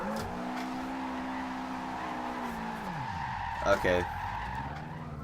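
A Subaru WRX STI drifts in the Forza Horizon 2 racing game, its engine droning steadily while the tires skid and squeal. A brief word is spoken partway through.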